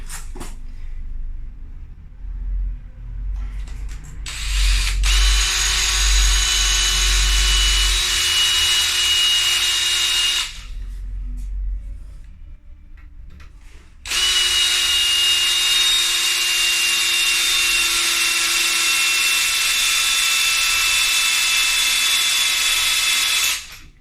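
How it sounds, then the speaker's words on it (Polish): A power drill grinds into hard porcelain tile in two long, steady bursts with a short pause between, loud and close, a high whining tone over the rasp. "Tu będę wiercił."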